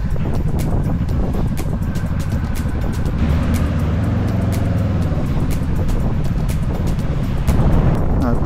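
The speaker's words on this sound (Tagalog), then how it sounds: "Everywhere it's traffic." Road traffic on a mountain route near Baguio, a continuous low rumble of car engines and tire roar heard from inside a moving vehicle, steady and fairly loud with wind buffeting the microphone and a faint voice.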